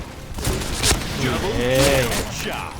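Rapid gunfire from a suppressed weapon in a PUBG match, quick sharp bursts of shots mixed with someone talking excitedly over the game.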